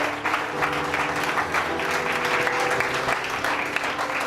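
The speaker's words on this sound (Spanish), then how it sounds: "Si va a aplaudir, hágalo fuerte para el Señor." Loud, dense applause from a church congregation, sustained and even throughout without pauses.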